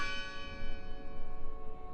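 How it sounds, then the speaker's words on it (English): Church bell in the video game Draugen, set in 1920s Norway, rings out with a sustained metallic tone that slowly decays, heard alone with no talking. "The bell's still ringing."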